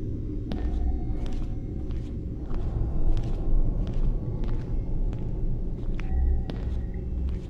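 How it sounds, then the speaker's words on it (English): Thunder rumbling in the VR horror game Doors of Silence, a low continuous roll holding steady through the whole stretch with a few sharp higher clicks and tones from the game over it. "I can hear thunder and lightning."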